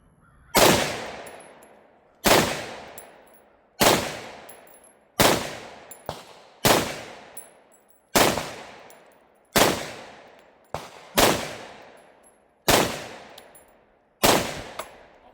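An Egyptian Hakim 8x57mm semi-automatic battle rifle firing Greek ammunition outdoors: about ten loud, sharp shots at a slow, steady pace, each followed by a trailing echo, with a couple of fainter cracks between them.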